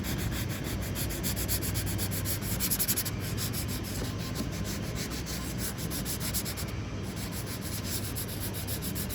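Steady, continuous rubbing of a flex sanding block across a Camaro body panel at 180 grit, a close, dense scratchy hiss running throughout with slight rhythmic surges from the back-and-forth strokes and no talking.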